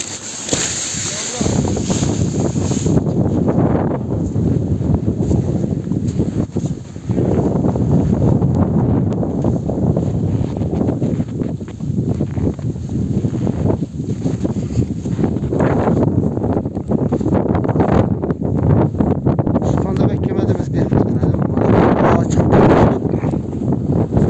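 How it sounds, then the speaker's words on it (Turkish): Strong mountain wind on snowy Süphan Dağı buffets the microphone in continuous heavy gusts, a deep rushing roar that surges and eases, with faint voices underneath. "Çok sert bir rüzgar var."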